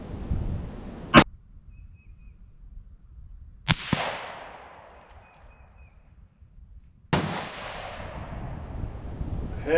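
A .17 HMR rifle fires three sharp, loud cracks several seconds apart outdoors in wind, each shot trailing off in a brief fading echo, with no talk.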